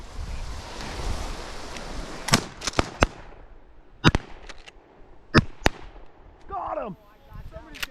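Shotguns fire during a duck hunt outdoors by open water, several sharp, loud cracks spaced over a few seconds against wind and surf noise, with a bird call near the end.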